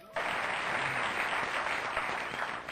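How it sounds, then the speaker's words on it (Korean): Audience applause at a ceremony unveiling a song monument at Taejongdae, Yeongdo, Busan, honoring a singer: a dense, steady burst of clapping from a crowd that starts abruptly and carries on evenly throughout. "박수 한번 칩시다"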